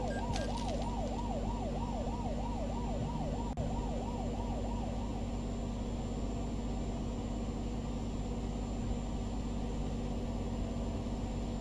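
A police siren in Euro Truck Simulator 2 wails in a fast rising-and-falling pattern for about the first five seconds over a steady truck engine drone, then fades, leaving the engine hum.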